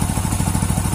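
A Hero Splendor Plus motorcycle engine idles just after starting, a close, loud, even putter with rapid regular firing pulses and slight mechanical clatter throughout.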